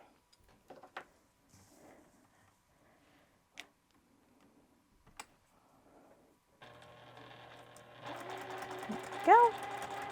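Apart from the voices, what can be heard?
sewing machine stitching fabric along a line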